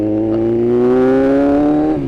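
A motorcycle engine revs steadily while being ridden, a loud close drone with rising pitch that holds, then drops slightly near the end, with no talking.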